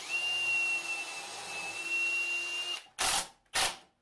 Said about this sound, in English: And I'll put on a clamp to try to hold it in place while I drill.